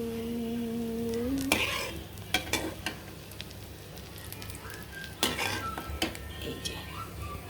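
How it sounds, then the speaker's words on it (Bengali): Kebabs sizzle steadily in oil in a pan while a utensil scrapes and clinks against metal now and then, with faint voices in the background. "আর একটু ভাজবো এগুলো"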